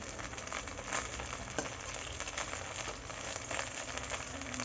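Chhana (cottage cheese) fritters fry in hot oil in a pan, giving a steady, dense sizzle with fine crackling that runs unbroken throughout at close range, with no voices.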